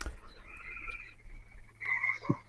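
Frogs croak at night, with a couple of rasping calls rising above a quiet, low background hum, one louder burst near the end.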